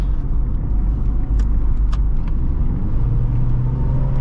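A 2006 Subaru Forester 2.5 X accelerates in a steady, loud low rumble from inside the cabin, the engine note rising slightly toward the end with no talking over it.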